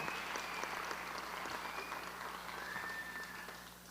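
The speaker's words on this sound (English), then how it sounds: "Let's give another round of applause for our super volunteer, Jessica Davies, Altaview Elementary School." Sustained audience applause fills a school district awards ceremony hall, a dense steady wash of many hands clapping throughout, fairly loud and continuous with a slight fade at the end.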